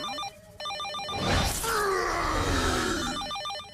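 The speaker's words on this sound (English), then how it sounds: "That's just a phone, Hulk." An old-style telephone bell rings in a cartoon superhero show, trilling in bursts before a loud crash and groaning cut in, then the ringing resumes over it.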